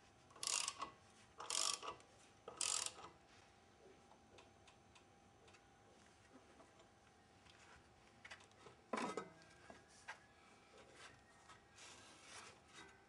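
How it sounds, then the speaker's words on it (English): A socket wrench tightening the blade disc on a lawn mower, close, with three quick ratcheting bursts early on, a pause, then further scattered clicks and turns at low volume and no talking. "use the socket wrench to fasten the blade disc firmly in place"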